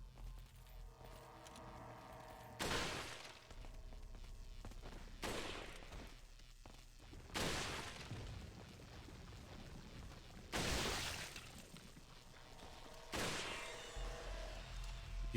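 Sniper rifle shots in Resident Evil 4, five loud, sharp, widely spaced cracks each followed by a short decaying tail, with quieter game ambience between them.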